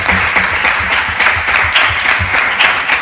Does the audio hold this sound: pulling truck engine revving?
no